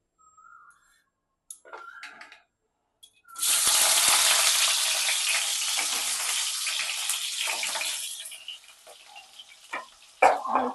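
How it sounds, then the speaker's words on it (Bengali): Potatoes drop into hot mustard oil in a wok and burst into a loud, steady sizzle that starts suddenly after quiet handling noises, then eases off toward the end. "আলুটাকে ভেজে নেব।"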